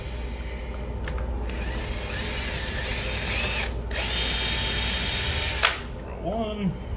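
A power drill setting rivets whines in bursts, starting and stopping several times, close by, with a low steady hum underneath and a brief voice near the end.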